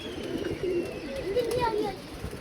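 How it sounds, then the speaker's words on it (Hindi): Pigeons cooing close by as a flock of racing pigeons is released into the air on a windy day, under steady wind noise with someone talking nearby. "ऊपर गए हैं कबूतर नज़र आ रहे हैं?"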